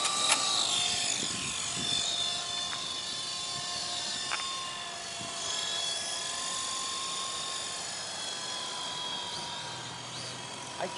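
Remote-controlled model helicopter in flight outdoors, its rotor whine and buzzing motor steady and fairly close for the whole stretch, with a few sharp clicks and small rattles and no talk.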